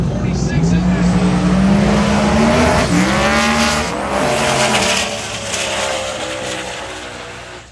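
Mustang drag race cars, including a 2012 Mustang, launching down the strip at a TX2K drag racing event, a loud roaring engine note with rising and falling revs, tire squeal, and a commentator talking over it.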